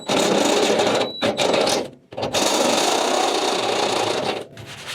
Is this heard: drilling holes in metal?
yes